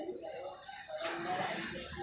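A pigeon kept at a pigeon club coos softly in short, low, throaty notes at close range, with a faint background hiss and no talking.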